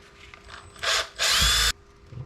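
A power screwdriver backs screws out of an RC car differential: two short whirring bursts, the second longer and louder, with a faint ratcheting click between and quiet pauses around them.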